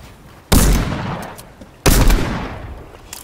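Two heavy bursts of video game gunfire in an arena trios match, each a loud sudden blast trailing off over about a second, with faint background clatter between them.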